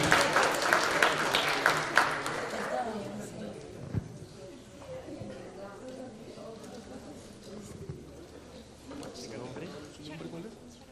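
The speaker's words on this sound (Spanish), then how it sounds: "Un fuerte aplauso para que pueda hacer entrega." Applause from the audience at a university book presentation is fairly loud at first, then fades after a few seconds while people keep talking quietly over the room noise.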